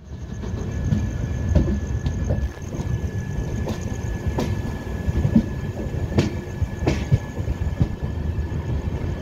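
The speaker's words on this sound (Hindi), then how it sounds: "तीन मिनट रुकने के बाद भद्रक से डिपार्चर हो गया।" The Mahima Gosain Express passenger train pulls out of Bhadrak station, with loud, continuous rumbling wheels, rhythmic clicks over rail joints and occasional squeals heard from on board.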